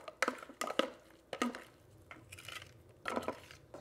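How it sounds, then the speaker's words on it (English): Chopped onion and garlic dropped into a bowl of 80/20 ground beef, giving a series of soft irregular thuds, utensil clinks and squishy scraping, close and quiet, with no talking. "I'm gonna add the onion and the garlic to the bowl"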